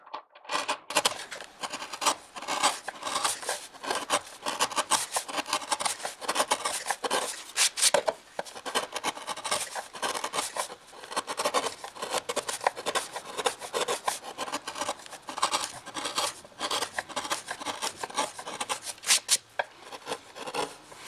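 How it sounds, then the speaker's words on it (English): A chisel pares the wood of a glued-on mandolin back in close, continuous rasping and scraping strokes, each short and gritty, repeating steadily with no talk. "that's about as far as I care to go with the chisel"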